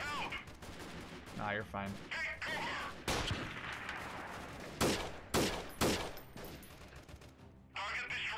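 Sniper rifle shots in the guerrilla warfare game Freeman: Guerrilla Warfare during a town assault, several loud, sharp cracks with echoing tails amid scattered gunfire, with a brief spoken remark early on.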